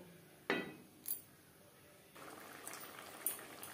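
Fish curry gravy simmering in a pot, a quiet bubbling hiss broken by a few sharp clinks of a utensil against the pot, with the bubbling growing louder toward the end.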